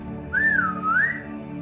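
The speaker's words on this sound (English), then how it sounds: "Garrick Goldenhawk whistles, calling his mount to him." A Wizard101 video game character whistles to call his mount, one clear rising-and-falling whistle with two bright swoops, loud and alone over a faint steady background.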